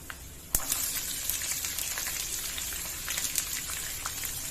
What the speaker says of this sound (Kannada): ಈಗ ನಾನು ಇದಕ್ಕೆ ಸಾಸಿವೆ ಹಾಕ್ತಾ ಇದ್ದೀನಿ ಜೀರಿಗೆ ಈರುಳ್ಳಿ